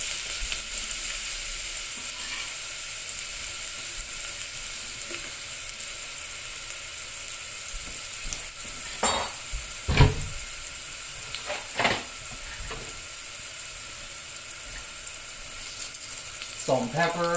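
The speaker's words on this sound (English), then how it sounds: "That's our oil getting hot. In goes the shallots." Shallots sizzle in hot oil, a continuous bright hiss close by with occasional louder bursts and spatters of stirring, no one speaking over it.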